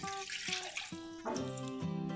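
Water pours in uneven bursts into a vessel, about three-quarters of a bowl, for making rice-flour dough for turmeric-leaf patole, the pitch rising as it fills, with a short gap between pours.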